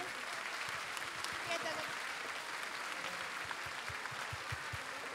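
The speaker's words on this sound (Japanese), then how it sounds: "どうぞ大きな拍手をお送りください" Audience applause at a Japanese women's pro-wrestling ring photo session with cast and legends, a dense steady wash of clapping filling the hall with a voice or crowd noise mixed in, fairly even throughout.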